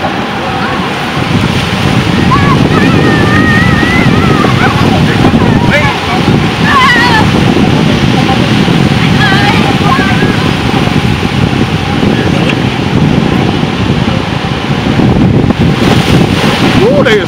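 Continuous roar of ocean surf at a San Diego beach and wind buffeting the microphone, loud and steady throughout, with faint voices and higher whistling tones mixed in.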